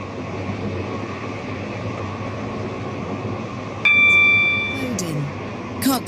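Train running in the railway game Stepford County Railway, a steady mid-level hum of motors and wheels, then a bright electronic chime or tone cuts in near the end with a short burst after.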